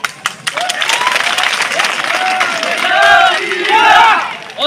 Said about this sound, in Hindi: बहुत जोर से तालियां बजा दो